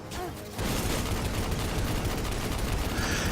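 Sustained rapid gunfire from the Destiny 2 video game, a dense continuous burst of automatic shots after a brief quieter lead-in, loud and steady throughout.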